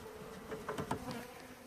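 Honeybees buzzing softly around an open long hive during a package installation, a steady faint insect drone with a few slightly louder passes as bees fly close.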